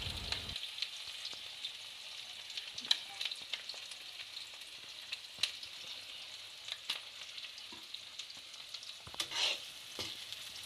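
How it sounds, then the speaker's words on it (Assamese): Chopped onions frying in hot mustard oil in a wok: a quiet, continuous sizzle with sporadic scraping stirs, close and without talk. "পিয়াজখিনি লাইট ব্ৰাউন হোৱালৈকে ভাজি থাকিম"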